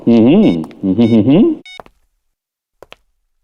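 A mobile phone being dialed: after a stretch of loud voiced, tune-like sound, a few short electronic beeps ring out, isolated against near silence.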